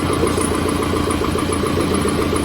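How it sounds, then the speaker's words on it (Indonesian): Toyota FJ40 with a swapped-in 15BT diesel engine running at idle, a steady, loud low rumble with a regular rhythmic throb close by, with no talking. "Kita dengarkan suara mesinnya."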